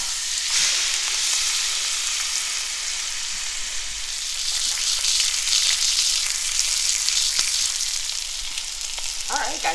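Pork roast (pernil) sears in a heavy pot, a steady loud sizzle and crackle running the whole time, with a few brief clinks of handling near the end.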